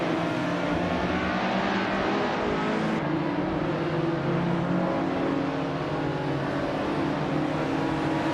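A 2016 Lexus race car engine in a racing video game drones loudly and continuously, a dense, steady roar with no voices over it.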